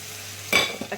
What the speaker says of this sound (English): that's sizzling away in there now.